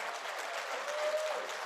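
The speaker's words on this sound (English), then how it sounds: "Let's give them a round of applause." Audience applause for students at a kente robing ceremony, a steady, moderately distant round of clapping that holds evenly without voices over it.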